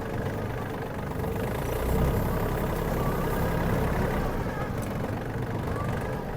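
A Yanmar RS-27 Japanese mini tractor runs steadily on a yard, its small diesel engine giving a continuous chugging drone that swells slightly as it shifts into a higher gear.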